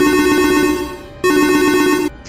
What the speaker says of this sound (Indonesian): Getar ponsel mengagetkannya kala itu.